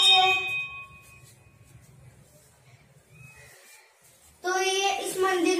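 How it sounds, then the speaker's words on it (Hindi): A metal bell rings inside a Hindu Shiva temple in a village: a fading ringing tone opens, then after a quieter stretch with faint voices the bell is struck again loudly, its bright tones sustaining to the end. "और हम आपको घंटी बजा के दिखा रहे हैं।"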